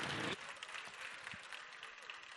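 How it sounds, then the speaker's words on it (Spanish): Audience applause for a panel at an anniversary event, a brief loud burst of clapping that quickly settles into softer, sustained clapping from a moderately distant crowd. "Fuerte el aplauso para la mesa."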